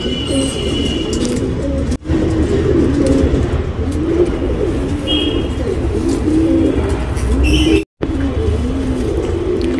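Tournament racing pigeons at a Bangalore loft coo softly and repeatedly over a steady low background hum, with a couple of brief dropouts.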